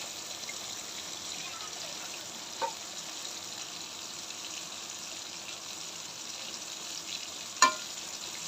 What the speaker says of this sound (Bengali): এবার মাংসটা কষিয়ে নিব